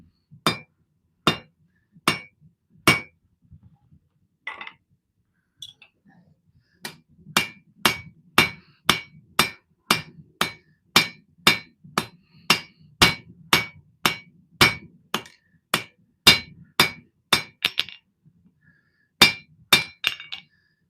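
Steady hand hammer blows ring out as a custom knife blade is forged, sharp metallic strikes coming in even rhythmic runs with a short pause midway, loud and close.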